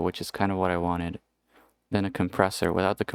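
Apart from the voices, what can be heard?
No everyday noise stands out behind the speech.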